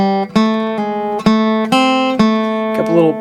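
Slow flatpicked guitar melodic fill with a couple of pull-offs, evenly spaced plucked notes ringing out clearly, close and alone with no talking.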